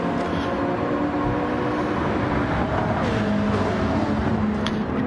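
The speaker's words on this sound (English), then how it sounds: "Putting the power down, a V8 and a turbocharged 6-cylinder straight 6." BMW and Ford Mustang race cars at the High Speed Ring in an eDTM simulator race, one with a V8 and one with a turbocharged straight-six, give a steady, loud, continuous engine drone throughout with no talk.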